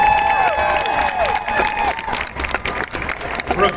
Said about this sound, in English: One more round of applause for the Brooks High School Marching Band.